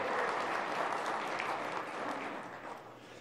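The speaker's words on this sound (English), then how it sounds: "Yes, it's worth clapping about." A crowd at a community presentation breaks into a brief round of applause, even and moderately loud, gradually thinning toward the end with no talking over it.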